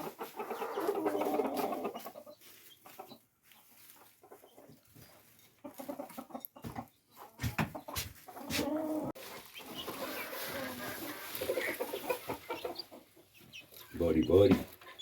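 Backyard chickens in a new winter coop, clucking in scattered bursts at close range, a voice occasionally talking among them.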